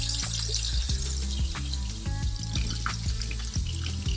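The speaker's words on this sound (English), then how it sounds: "So now we're going to turn the water back on, and we'll go ahead and run the water" Kitchen faucet running steadily after a Moen cartridge replacement, a continuous broadband water hiss with some low clatter, close and loud throughout.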